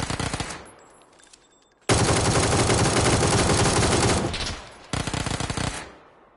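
Automatic gun firing in PUBG on console, loud rapid bursts: a short volley, a long sustained stream of shots, then another brief burst, with no talk over it.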